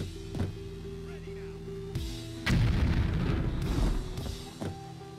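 Explosion in the heist game Payday 2: after a few thuds, a loud blast bursts in and rumbles on for about two seconds, with tense voices talking before and after it.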